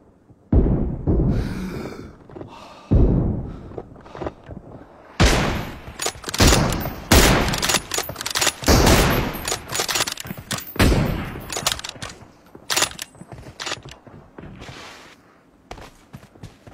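Rapid bursts of gunfire from a long fight in a mobile shooter video game crack out loud and dense, clustered volleys separated by short lulls, with footstep-like rustles in between and no talk.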